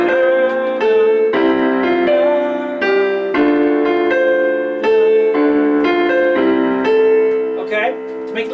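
Solo piano plays a song in a lesson arrangement, with full chords struck in a steady, even rhythm. Sustained notes ring close and loud with no voice over them.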